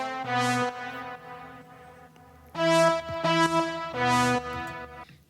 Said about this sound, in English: with a saw wave just for the bottom part to fill it up,